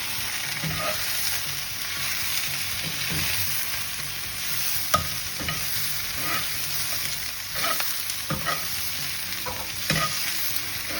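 Spinach sautéing with garlic and sun-dried tomatoes in a pan over medium heat, a continuous close sizzle broken by repeated scraping stirs and light utensil taps.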